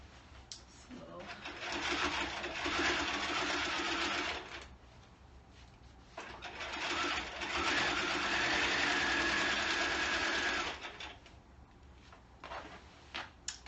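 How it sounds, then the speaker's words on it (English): A sewing machine runs while stitching a coat lining, two long bursts of fast steady whirring separated by a short pause, close by, with a few brief clicks at the end. "Almost done with the sewing."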